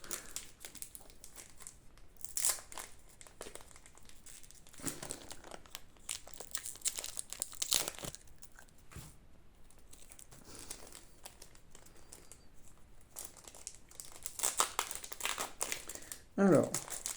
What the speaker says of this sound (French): Troisième booster, on en a 7 en tout à ouvrir.